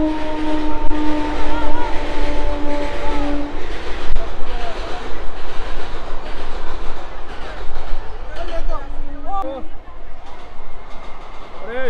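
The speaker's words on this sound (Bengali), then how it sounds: "দেখো বন্ধুরা, ট্রেন যাচ্ছে উপর থেকে" A train passes overhead on a bridge with a loud, continuous rumble and rattle of wagons and some squealing, heard close by near a riverside road.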